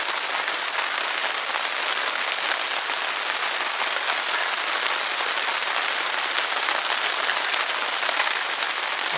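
Steady rain falls at a campsite on a kayak trip in Karelia, a dense, even hiss of drops on surfaces that holds at the same level throughout with no voices.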